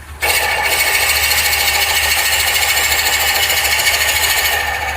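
BORA Tempest Forstner bit boring into cherry end grain: a loud, steady, buzzing drill whine starts abruptly and runs continuously with a rough, chattering texture for nearly five seconds before easing slightly.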